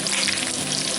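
Bacon frying in a cast iron pan for fried rice, a loud, dense, continuous crackling sizzle heard up close with no talk.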